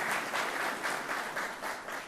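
Audience applause at DeKalb County's MLK celebration, a steady wash of many hands clapping at moderate loudness that holds evenly for a couple of seconds with no talk over it.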